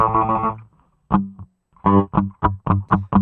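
A distorted synth sound passed through a chorus effect in FL Studio 12 plays as a long sustained tone, then a series of short, punchy stabs in a quick rhythm, loud and alone.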